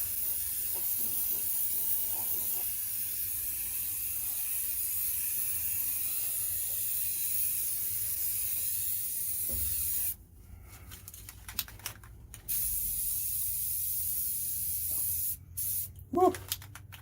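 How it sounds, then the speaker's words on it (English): Weld-through primer sprays from an aerosol can in a long, steady, close hiss, then stops and resumes in shorter bursts, in a yard workspace during 1969 Dodge Charger rocker repair. "So this is the weld-through primer that I'm going to use."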